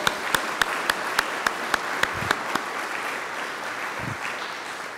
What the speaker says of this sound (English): Now let's applaud our dignitaries.